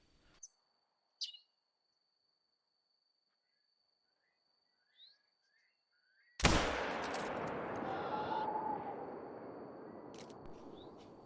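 A single loud rifle shot rings out at a red deer in a hunting video game, a sharp close blast with a long decaying tail, preceded by quiet sparse bird chirps.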